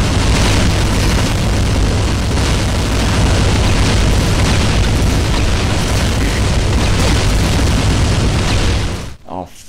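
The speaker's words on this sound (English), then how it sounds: "just listen how they were constantly nuking me with their attacks" Enemy attacks in the video game Dreamkiller set off continuous heavy explosions, a loud, dense barrage of booms and rumbling blasts that runs unbroken for about nine seconds before cutting off abruptly.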